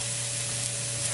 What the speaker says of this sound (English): So I'm gonna let these saute a little bit.